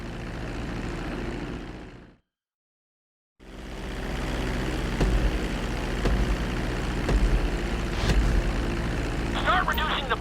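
Airplane engine droning steadily during a runway landing approach in the video game GTA 5, loud and continuous, cutting out briefly to silence before resuming.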